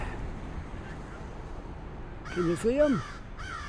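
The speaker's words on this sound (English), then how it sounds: "I hear a crow right up there." Two or three harsh crow caws in quick succession, moderately close, over a quiet outdoor background, with a person speaking briefly.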